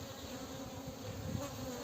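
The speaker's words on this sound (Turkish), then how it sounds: "Erkek arılar uçuyor." Drone honeybees flying around a hive in a modern beekeeping apiary, a steady, dense, low buzzing drone that fills the air at close range without pause, with no talking.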